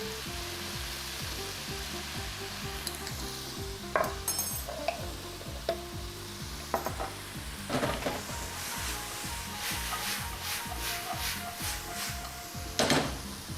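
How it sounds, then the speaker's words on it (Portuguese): Onion sautéing in a pan for a festive holiday dish, a steady sizzle running throughout with repeated stirring scrapes and a few sharp clinks of the utensil against the pan, close and moderately loud, no voices. "E a gente vai então salteando a cebola e vamos deixá-la bem dourada."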